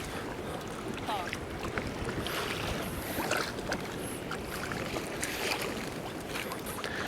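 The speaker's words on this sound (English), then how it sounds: "the wind's blowing from the top coming at you" Wind blows over choppy water during kayak fishing, a constant rushing hiss with buffeting gusts against the microphone and faint splashes, steady and fairly quiet throughout.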